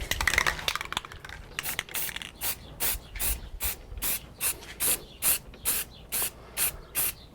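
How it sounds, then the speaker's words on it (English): Ink sprayed in repeated short bursts onto a carved wooden business sign outdoors on a hot, dry day with a light breeze; about a dozen evenly spaced hisses, close and fairly loud, with no talking. "not let me spray this ink"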